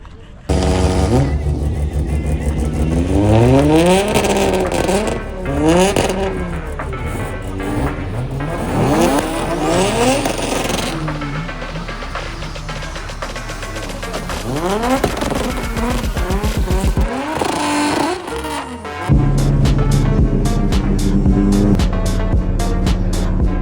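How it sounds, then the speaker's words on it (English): Roll racing at a small drift event at the very bottom of the South Island, with loud, close cars revving hard through rising and falling gear changes and tires squealing, engines overlapping continuously before a brief drop and another roaring launch. "We got some roll racing going down."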